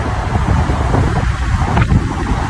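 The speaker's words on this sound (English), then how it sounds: "Oh my god, it's so fucking windy" Strong wind roars steadily across the microphone, a constant heavy buffeting rumble with no pauses.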